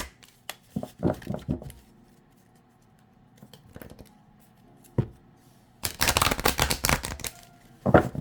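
Playing cards are shuffled up close in a few bursts of rapid riffling patter, with quiet pauses and small handling taps between, no voices over them.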